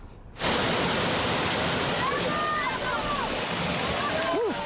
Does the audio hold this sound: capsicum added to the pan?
no